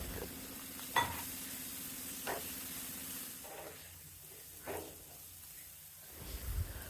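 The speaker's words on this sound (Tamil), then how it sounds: "கொஞ்சமாக தண்ணி சேர்த்து வதக்கணும்." Onions and spices sautéing with a splash of water in a pan for a cauliflower side dish, a soft steady sizzle and hiss broken by occasional spoon stirs and scrapes, heard close.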